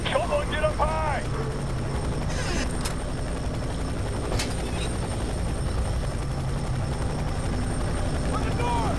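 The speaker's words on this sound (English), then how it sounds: "Helicopter's starting to get on my nerves." A helicopter drones continuously overhead in the Fear 3 video game, a loud rotor throb beneath scattered gunfire bursts and other game sounds.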